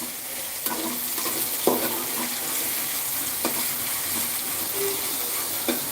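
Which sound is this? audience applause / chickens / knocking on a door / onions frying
onions frying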